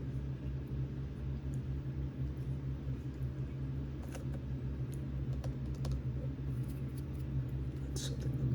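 Light typing on a computer keyboard, with faint scattered clicks heard over a loud steady low hum.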